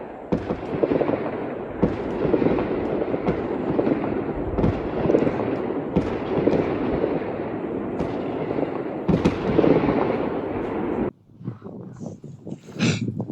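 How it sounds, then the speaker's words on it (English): Village fireworks at New Year burst in a rapid, dense barrage of cracks and bangs, loud and continuous like a battlefield, then cut to quieter scattered pops at the end. "the people here in this village were really enthusiastic about fireworks"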